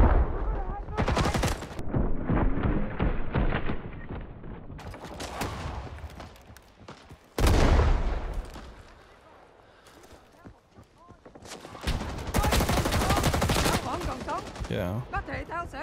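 Bursts of M2 heavy machine gun fire in the Vietnam-era shooter Rising Storm 2 on the Quang Tri map, loud sustained volleys separated by quieter stretches, mixed with other battle noise and a player talking.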